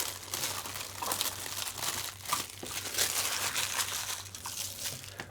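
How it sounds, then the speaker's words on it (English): Close, continuous crinkling and crackling as protective plastic film is peeled off an HPI Racing Venture 18 RC crawler, with a low steady hum underneath. "let's do some peeling."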